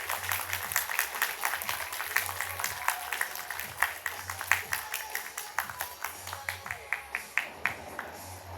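An audience claps for a student and proud parents at a JEE Main result celebration, fairly quiet, loose clapping with distinct sharp claps standing out, with a low hum and murmuring beneath.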